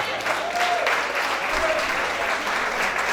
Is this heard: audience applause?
yes